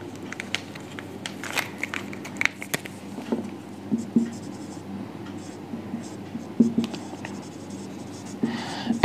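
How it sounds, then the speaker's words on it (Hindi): Chalk or marker scratches on a board in short strokes and taps during a chemistry lecture on redox reactions, close and moderately loud in a classroom. "यहां पे लिख देता हूं"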